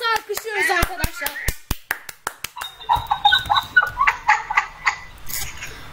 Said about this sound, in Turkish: Enes'e alkışlıyoruz arkadaşlar.